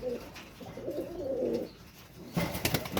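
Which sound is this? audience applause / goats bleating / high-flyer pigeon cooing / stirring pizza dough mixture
high-flyer pigeon cooing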